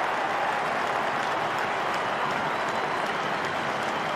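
A football crowd at a 1998 Melbourne versus North Melbourne match standing as one and applauding, a dense, continuous roar of clapping and cheering that stays even and full throughout.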